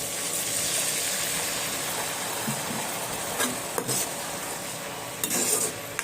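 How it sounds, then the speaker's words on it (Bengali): A spice masala with tomatoes is stirred and sautéed in a pan, giving a soft continuous sizzle broken by close scrapes and clinks of a utensil against the metal, with no voices. "জিরা গুঁড়ো সব কিছু দিয়ে এক মশলা দিয়ে ভালো করে কষিয়ে নিতে হবে টমেটোর সঙ্গে"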